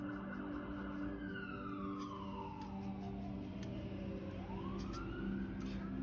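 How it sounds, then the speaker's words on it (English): A wailing emergency siren sweeps steadily up and down in pitch, passing outdoors at moderate distance over a constant background hum, with no talking. "Here come the sirens."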